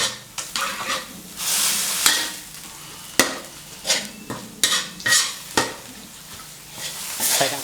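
Pork stir-frying in Thai northern chilli paste, loud sizzling bursts alternating with sharp utensil scrapes and knocks against the pan, close-up and irregular in rhythm, with no voices.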